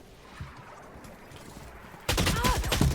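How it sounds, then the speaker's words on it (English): Swarm grenades go off in a video game, a sudden loud burst of rapid crackling pops that starts partway through after quieter game sounds and keeps rattling to the end. "Swarm grenade out"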